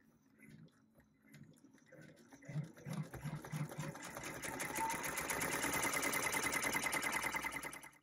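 An embroidery machine stitches the outline of an in-the-hoop gel holder, starting with quiet clicks and a faint voice before the rapid needle chatter builds loud and steady for the last half.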